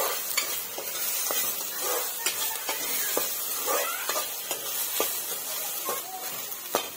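Soya chunks fry with a little spice powder in a pan, a steady sizzle broken by sharp scraping clicks of a spoon stirring at an irregular rhythm, close and alone.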